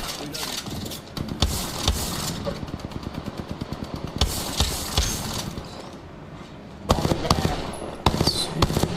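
Rapid gunfire in a video game rattles in repeated quick bursts with sharp shots between them, set against game sounds and a voice talking over it.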